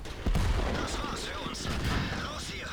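Heavy tank cannon fire and impacts in World of Tanks, a SU-152 or JagdPanther II firing at and ramming an enemy vehicle, with a sharp boom followed by continuous rumbling battle noise, fairly quiet overall.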